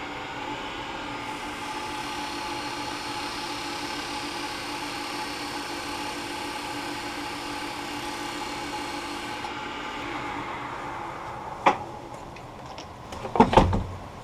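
Wood lathe running at high RPM while a guitar string is pressed against the turning wood to burn friction lines. A steady whirring drone holds for about ten seconds, then eases off, followed by a few sharp knocks and clatters.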